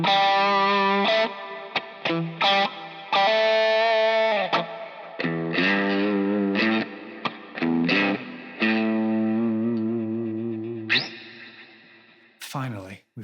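An electric guitar plays an 80s-style solo riff with heavy distortion, running through choppy bursts of notes and held bends with vibrato, loud and close, ending in a scrape of noise.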